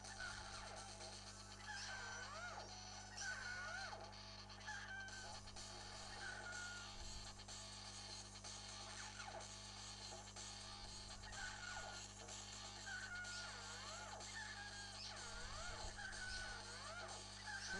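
Cartoon chicken clucks and crows repeat through a boss battle on Rooster Island in the platform game Pekka Kana 2, several short calls recurring over steady game music and effects.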